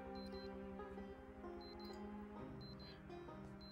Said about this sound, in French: en marchant, on peut pas arrêter l'alarme non plus.